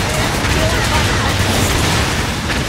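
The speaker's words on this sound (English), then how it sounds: "A lot of explosions happening" Explosions and gunfire in Metal Gear Solid 4 during a bike chase roar as one dense, continuous barrage, loud and unbroken, with voices talking over the din.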